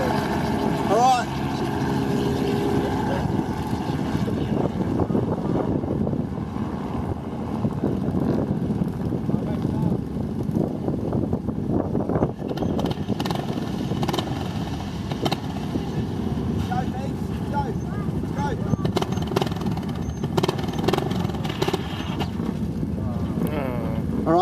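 Drag racing motorcycles, a Suzuki 125 and an R150, launching at a drag strip with steady engine roar throughout, blended with wind noise and a voice commentating over it.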